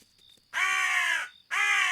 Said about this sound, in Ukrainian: Боже, яка душна ворона.